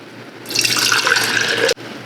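Liquid poured steadily into jars at home for a painting and shell-gift project, a close continuous splashing stream lasting about a second before stopping abruptly.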